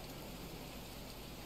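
Rain falling in the medieval colony-building video game Going Medieval, a steady, soft, even hiss of rainfall with no pauses or voices.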